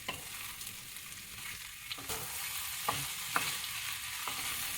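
Onion, potatoes and daikon sizzle steadily in a hot pan for Korean soft tofu stew, with occasional scraping clacks of a utensil stirring them, close and continuous.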